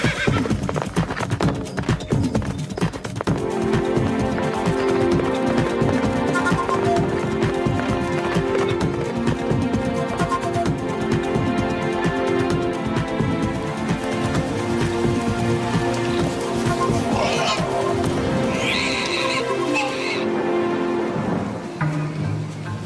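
Horses in a cartoon set in the wild west plains ride off at a gallop, with hoofbeats and a whinny under a loud, continuous music score and stormy rumble.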